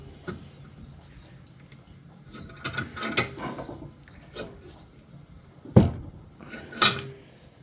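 A die cuts threads on a part for a T3v3 slider build, making a sequence of close ratcheting clicks and creaky turning strokes with short pauses between them, and two sharper clacks near the end.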